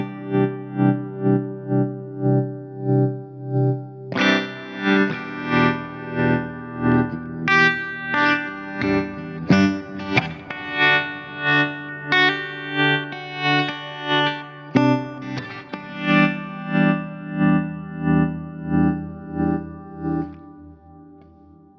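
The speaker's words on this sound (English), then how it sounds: "I love this tremolo pedal." Kmise tremolo pedal at full depth on electric guitar, chords pulsing in a steady rhythmic throb like a rotating speaker, loud and continuous with distorted, chorus-like shimmer and no talk.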